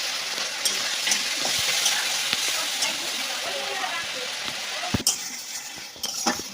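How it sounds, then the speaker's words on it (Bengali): Mango pieces go into a sizzling pan while fritter curry is being made, steady loud frying hiss throughout with a sharp clink near the end and a few light utensil taps. "আমটা দিয়ে দিচ্ছি"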